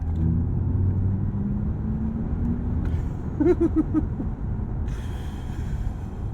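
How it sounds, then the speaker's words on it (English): Audi RS e-Tron GT electric car on the road with its dynamic sound profile, a low synthetic humming drone swelling as the throttle is pressed, steady and close inside the cabin. "And so it's this warp driving noise as you press into the throttle."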